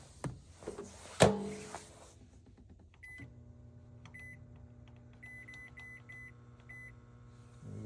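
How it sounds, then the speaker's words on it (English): A quiet microwave oven set up while car camping off-grid: door clicks and a keypad beep, then a low steady hum as it runs, with a series of short high beeps. "That's actually a really quiet microwave."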